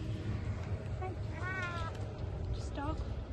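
A cat gives two short meows, close by and fairly quiet, over a low background rumble.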